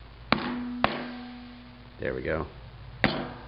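A hammer strikes the lid of an old Pepsi keg being refurbished for home brewing: three sharp metallic clanks, one with a lingering ring, and a short spoken remark between them.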